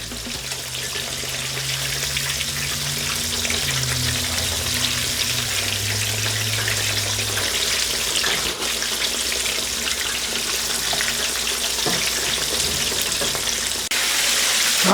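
Buffalo chicken pieces frying in hot oil, a steady dense sizzle and bubbling, continuous and close with no voices.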